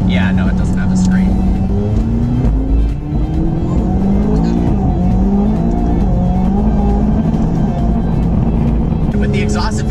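A McLaren sports car's engine and exhaust rev hard and loud for the whole stretch, with rising and falling pitch and raw crackling bursts, while people talk over it.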